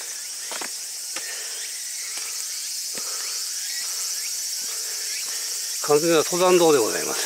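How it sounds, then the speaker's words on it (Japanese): Cicadas drone in a steady, dense high chorus all along a quiet mountain hiking trail toward a hilltop lookout, faint footsteps beneath, and someone speaks briefly near the end. "あそこからセミ鳴いてるね。"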